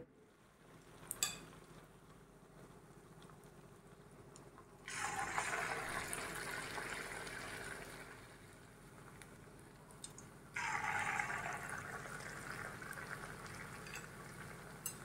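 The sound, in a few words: urad dal vada batter frying in hot oil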